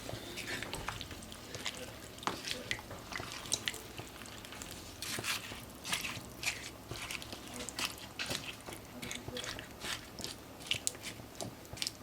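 Butternut squash soup gets stirred in a pot: a spoon scrapes and squishes through the thick mixture in uneven, repeated strokes, with wet clicks and clatters, fairly quiet and close.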